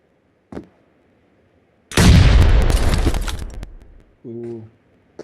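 In a competitive clan-match video game, a grenade goes off in a single heavy, booming blast after a faint earlier pop, its rumble slowly fading over about two seconds before a brief voice follows.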